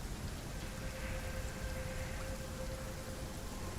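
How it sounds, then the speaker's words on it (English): Steady rain ambience from the video game Gunfire Reborn hisses in a soft, constant wash with a faint tone running underneath, quiet and unbroken, with no voices. "I still hear rain."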